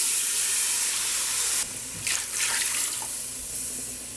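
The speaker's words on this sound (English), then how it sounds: "And then add some water." Water pours steadily into a pot of beef stew, a broad hissing splash that cuts off partway through, followed by a few softer trickles and drips.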